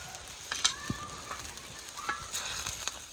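Onions and spices (coriander, chili, turmeric) frying in a pan in a village kitchen, a soft broadband sizzle with a few scraping stirs and small clicks, fairly quiet and steady, no talk.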